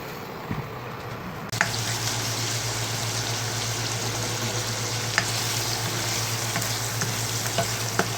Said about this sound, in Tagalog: Dito na tayo magigisa ng ating fritado. Sibuyas at bawang lang tayo.